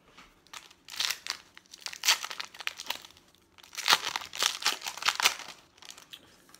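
A baseball card wrapper from a 2016 Topps Update blaster box crinkles and tears open in two bursts of loud, close crackling with brief pauses between.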